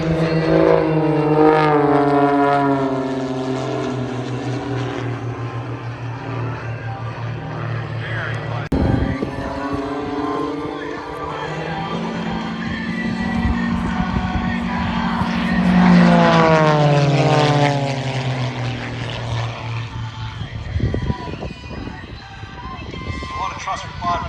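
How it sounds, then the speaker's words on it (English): Propeller aircraft fly over an air show, engines droning and shifting in pitch as they pass, rising and falling in loudness, under a commentator's voice. "Fascinating to see the smaller aircraft at Paul's."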